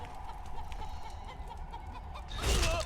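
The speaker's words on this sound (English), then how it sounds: "Should attack the chicken." Chicken in the City of Brass video game gives a brief burst of clucking near the end, rising over steady game music and ambience.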